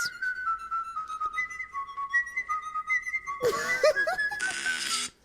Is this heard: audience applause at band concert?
no